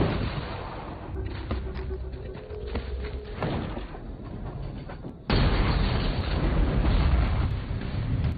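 A sudden loud explosive blast in an action film, cutting in sharply midway over a tense rumbling soundtrack and sustaining a broad, heavy roar afterward.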